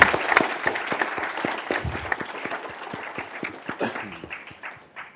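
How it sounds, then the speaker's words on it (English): Audience applause at a student symposium debate, a dense burst of many hands clapping that starts loud and gradually thins and fades over several seconds. "We could clap."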